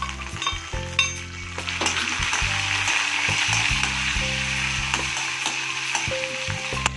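Curry leaves and ginger hitting hot oil in a spice tempering, loud close sizzling and spitting with scrapes and clinks of a spoon against the pan throughout.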